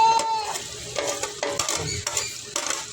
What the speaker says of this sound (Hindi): तो उसको भी मज़ीद हम भूनेंगे थोड़ा सा।